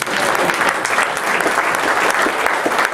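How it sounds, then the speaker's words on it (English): An audience at a business community gathering claps together, a steady, fairly loud burst of many hands applauding without pause across the short stretch. "You can clap for her, that's fine."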